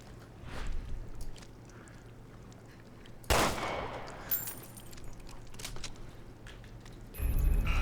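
A gunshot fires in the video game Resident Evil Revelations 2, one sharp, loud crack with a trailing echo over a low ambient hum, followed near the end by another abrupt burst.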